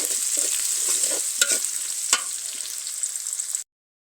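Close, steady sizzling of onion and garlic frying in a pan, broken by a few sharp scrapes and clinks of a spoon stirring, before cutting off abruptly.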